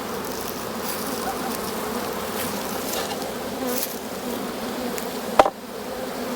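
Honey bees drone in a steady, dense buzz around an open hive during an early spring inspection, constant and close throughout, with one short knock near the end.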